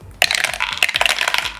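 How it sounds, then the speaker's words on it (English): Dice clatter and tumble through a 3D printed cake-shaped dice tower, a quick burst of close, bright rattling clicks and bounces that skitter on for over a second before stopping. "then you can take off the top, and then that's where you drop the dice in"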